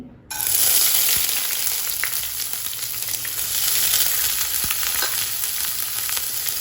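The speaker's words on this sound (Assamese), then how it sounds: "এতিয়া তেলটো গৰম হ'ল, মই চাউলখিনি দি দিম।" Rice hits hot oil with a sudden burst, then fries in a loud, continuous sizzle with faint crackles and scraping, and no talking.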